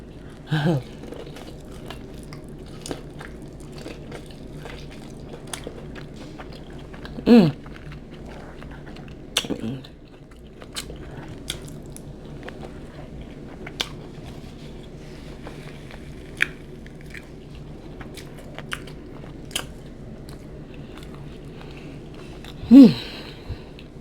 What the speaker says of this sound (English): I'm still chewing.